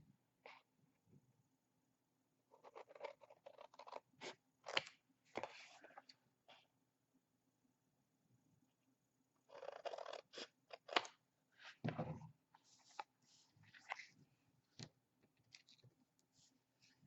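Chipboard is cut by hand in scattered bursts of crisp snipping and crunching clicks, with pauses between groups, close and fairly quiet, with no voices.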